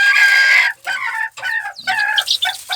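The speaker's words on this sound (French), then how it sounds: "Alors ici, la poule Cochamot" A Cochamot hen clucks and calls loudly and close, with her seven chicks nearby, in a run of repeated bursts broken by short pauses.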